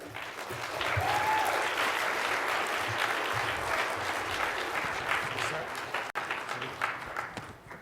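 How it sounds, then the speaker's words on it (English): An audience at a media reform conference closing plenary applauds a performing artist and poet, sustained clapping from a large room holding steady before tapering off with a few scattered claps. "Let's give him a hand."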